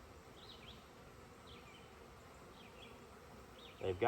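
Honeybees drone in a steady, fairly faint buzz while a full hive is opened for inspection, with individual bees flitting past now and then and a louder close handling rustle near the end.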